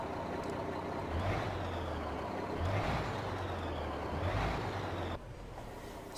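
Mack R Series truck engine in American Truck Simulator revving up and down three times in rising swells over a steady idle rumble, then dropping back to a quieter idle.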